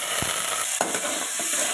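Onions, curry leaves and whole spices such as fennel and cinnamon sauté in sesame oil, giving a continuous loud sizzle with a few soft stirring scrapes.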